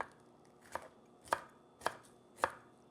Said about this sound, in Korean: 파프리카는 써실 때는 뒤집어서 써시는 게 미끄럽지 않아요?